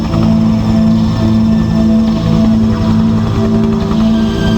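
A steady helicopter drone in the video game The Smoking Mirror, with a low, pulsing rotor hum and engine whine, loud and continuous, no voices.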